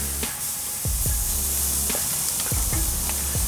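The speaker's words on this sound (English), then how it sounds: "our pork tenderloin's been searing here for just a few minutes" Pork tenderloin searing on a charcoal grill, a steady hiss and sizzle with several low thumps and handling knocks, no speech.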